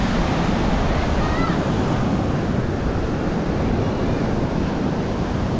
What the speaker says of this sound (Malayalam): നല്ല രീതിയിൽ തിരമാലയുണ്ട്.